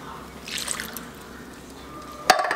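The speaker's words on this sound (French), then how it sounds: "je vais juste mettre un petit peu d'eau pour récupérer le fond" Water trickles into a slow cooker pot over tomato pulp, a soft pour ending in a brief sharp splash.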